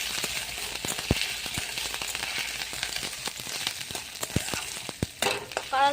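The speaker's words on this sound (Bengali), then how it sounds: "কাঁচা ছোলাকে একটু ভেজে দেবো।" Raw chickpeas sizzle and crackle in hot oil with fried ginger-garlic paste, a steady bright frying hiss with irregular pops and the occasional scrape of stirring, close and alone without talk.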